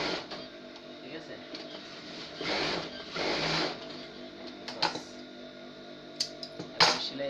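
A sewing machine stitches salwar fabric, with a couple of short whirring bursts of stitching followed by scattered clicks and handling noises, close by, while someone talks.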